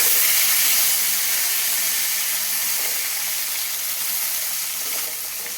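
A loud, even sizzle and hiss of a maya fish parcel wrapped in pumpkin leaves in hot oil, continuous throughout and easing slightly toward the end.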